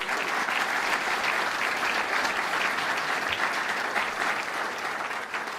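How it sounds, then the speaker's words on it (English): Steady, full applause from the audience at a governor's announcement event on Staten Island toll relief, dense and sustained at close range before tapering slightly near the end. "Assemblyman Mike Cusick, let's give him a round of applause."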